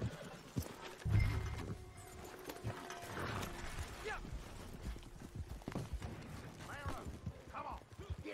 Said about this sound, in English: They got horses here.